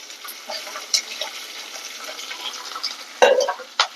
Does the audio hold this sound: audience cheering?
no